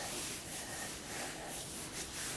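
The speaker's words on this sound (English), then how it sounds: "Close your mitten like a book and go rub, rub," Soft, steady rubbing as hands press a painted paper mitten folded shut like a book, a faint continuous brushing friction with no voices.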